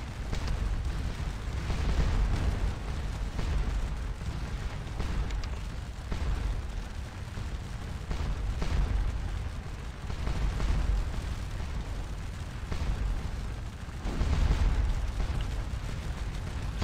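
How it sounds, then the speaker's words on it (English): Scourge of War Waterloo battle audio: massed Napoleonic cannon fire keeps up a dense, continuous rumble with repeated booms over the whole stretch, loud and distant-sounding, with no talk. "Still smashing these guys with cannons."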